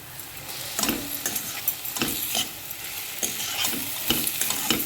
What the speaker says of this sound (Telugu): వెల్లుల్లి ముద్ద కూడా వేసేసి బాగా కలిపేసుకోవాలి.